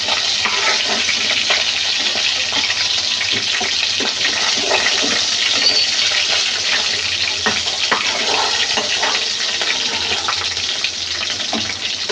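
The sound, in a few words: frying katla fish pieces in a pan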